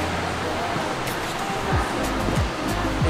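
A waterfall at a castle-like wedding venue rushes with a steady, broadband roar, with a few low thumps and a faint voice in the background.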